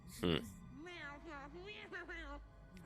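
A small cat in Vampire: The Masquerade – Bloodlines 2 lets out one short, loud meow, followed by a voice speaking over a low game ambience.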